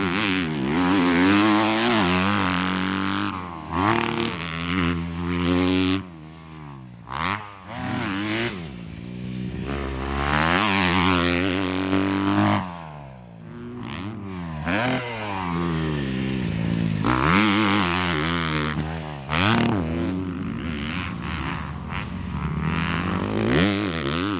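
A 2021 Kawasaki KX250 motocross motorcycle at Perris Raceway, its engine revving hard and rising and falling in repeated sweeps as it passes, loud and near throughout.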